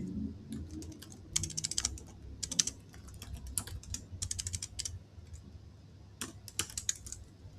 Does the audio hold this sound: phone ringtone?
no